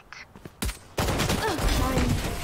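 Gunfire in the tactical shooter Valorant: a few sharp shots early, then a dense burst of rapid fire with game effects and voices talking over it.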